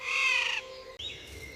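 A bird mimicking a whole flock sings loud harsh, overlapping calls at close range, with a dense raspy cry, a short break, and then a rising whistled note.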